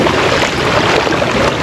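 A motorbike pushes through water on a flooded road, a loud, steady rush of splashing and churning water with a low engine rumble underneath, close and continuous throughout.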